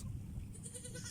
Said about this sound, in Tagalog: Yan yung mga kambing.